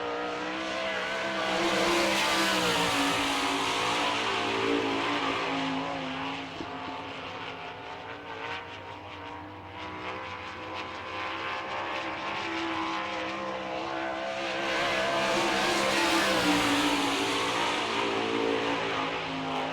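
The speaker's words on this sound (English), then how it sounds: "The first lap for Joey Saldana." A sprint car with an Eagle chassis and Kreiner racing engine roars around the dirt track at Barberville, Florida, on its first lap. The engine is loud and continuous, swelling and fading as it passes, with no speech.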